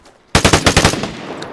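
Rapid burst of automatic gunfire in the online shooter Vigor, about eight loud, close shots in quick rhythm, then a fading tail with no talking.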